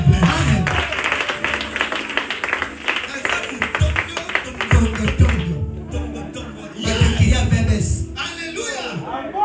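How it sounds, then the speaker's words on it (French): An audience at a French-speaking church gathering applauds an interpreter, giving a few seconds of steady clapping that fades out while a voice speaks and clapping returns briefly toward the end. "acclamons pour mon interprète"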